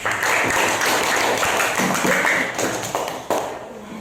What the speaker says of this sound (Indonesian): Silakan duduk kembali beri tepuk tangan